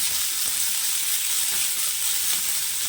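Onion, tomato, poppy seeds and grated coconut frying for a mushroom gravy give a continuous, even, close sizzle with a bright hissing texture and no stirring breaks.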